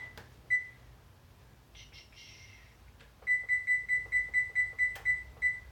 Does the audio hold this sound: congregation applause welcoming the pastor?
no